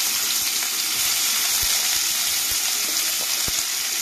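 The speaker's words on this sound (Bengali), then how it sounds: "আমি এতে এবার কিছুটা পেঁয়াজ কুচি দিয়ে" Chopped onions frying in hot oil for a chicken curry, a loud continuous sizzle up close with a few faint stirring knocks.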